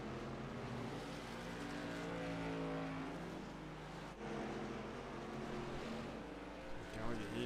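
Race cars lap the short oval at South Boston in the iRacing sim, a continuous layered engine drone with shifting pitches from several cars running together, steady and fairly loud beneath a commentator talking.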